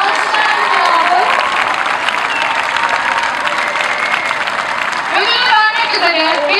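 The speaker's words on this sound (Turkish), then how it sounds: "Milli takım sporcumuz olan Ayşe Begüm Onbaşı'na alkışlarımızı" Sustained audience applause with scattered cheers for a national team athlete at a municipal sports festival award ceremony, loud and steady throughout, with a few voices rising near the end.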